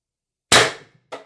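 An IntruBuster Gen 2 carbine fitted with a Critical Situations Titan IB-2 drum magazine fires a single test shot: one loud, sharp, close crack that rings briefly, then a second short burst just after.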